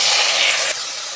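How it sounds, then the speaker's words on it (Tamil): Tomatoes drop into hot oil in a pan while cooking a ration-dal meal, setting off a loud, close steamy hiss that stays strong for about three-quarters of a second, then settles into a quieter steady sizzle. "இப்போ நம்ம தக்காளி போட்டுடலாம்."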